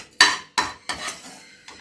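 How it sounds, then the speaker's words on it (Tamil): Curry ingredients for a Karaikudi chicken curry drop into a mixer jar, making four sharp, close clinks and clatters spaced out over a couple of seconds in an otherwise quiet kitchen. "ஃபஸ்ட் எல்லாத்தையும் சேர்த்துக்கலாம் மிக்ஸி ஜாரில்."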